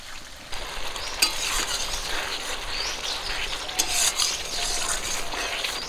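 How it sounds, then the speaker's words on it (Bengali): Spice paste for a Bengali fish-roe curry fries in a pan after hot water is added, giving a steady bubbling sizzle with scraping stirs, close and moderately loud, a few faint bird chirps in the background, no talk. "গরম জলটা দিয়ে দেবো মশলাটা কষানোর জন্য"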